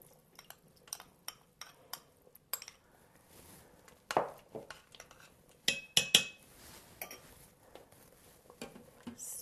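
Spoon clinking and scraping inside an Instant Pot as slurry is added and stirred into honey lemon chicken. Irregular light taps run throughout, with a few sharper knocks near the middle, all faint and close.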